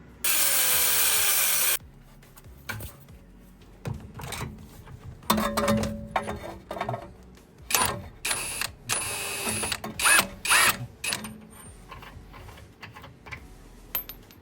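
An impact wrench runs on the outer tie rod nut of a Honda Civic. A loud, dense burst lasts under two seconds, followed by scattered metallic clinks, taps and clatter at close range.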